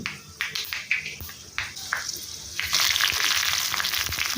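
Mustard seeds splutter in hot oil: sharp crackling pops at first, then a steady hiss of oil sizzling, close by and fairly loud.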